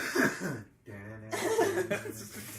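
A person coughs in a short burst, close and fairly loud, then a low hum continues with more breathy vocal sounds, loose and informal.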